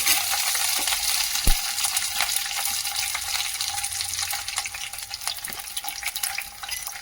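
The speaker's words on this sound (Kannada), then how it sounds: "ಇದನ್ನು ಒಂದು ಸ್ಪೂನಿನ ಸಹಾಯದಿಂದ ಈಗ ತಿರುಗಿಸ್ತಾ ಇರಬೇಕು. ಅದೇ ರೀತಿ ಬೆಳ್ಳುಳ್ಳಿ" Garlic and raw ginger sizzle in a hot pan while a spoon stirs them, a steady close frying hiss with a faint scrape or clink now and then and no voices.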